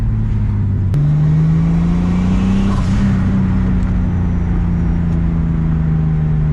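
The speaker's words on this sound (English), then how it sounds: "I'm gonna try and rev it up and then let it decel down" A rebuilt forged turbocharged BMW M50 inline-six in an E30 climbs in second gear under load, its loud steady drone stepping up after a sharp shift click, rising gradually, then easing slightly as it decelerates.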